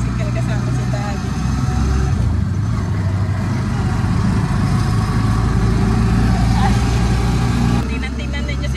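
Steady mid-pitched engine drone from a motorized tricycle while riding, loud and continuous with road rumble, ending in a brief shift near the end.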